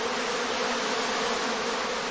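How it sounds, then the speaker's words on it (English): Honeybee swarm clustering around its queen in a shaded hanging bag, a dense, steady close-up hum of many bees, loud and unbroken with no talk. "the bees in the shaded hanging bags collect around their queen to form the swarm cluster"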